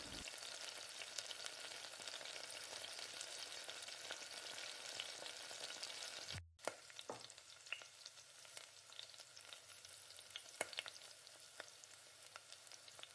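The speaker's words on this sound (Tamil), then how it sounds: "ஸ்டவ்வை கொஞ்சம் கம்மி பண்ணி வச்சுட்டு பொறுமையாக நல்லா வதக்கி விடுங்க" Tomato and masala sauteing in a pan for chicken thokku, a soft continuous sizzle with faint stirring scrapes, briefly cut off midway and then resuming at a lower, crackling level.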